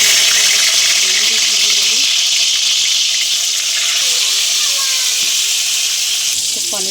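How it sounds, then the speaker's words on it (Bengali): Paneer frying in oil in a wok makes a loud, continuous hiss that holds steady throughout, with a voice speaking faintly underneath. "পনিরটা ভেজে নিচ্ছি।"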